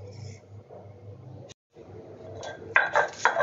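Chillies, garlic and onion being ground into a paste, with scraping and knocking against a hard surface, brief pauses, and louder clinking, grating strokes toward the end.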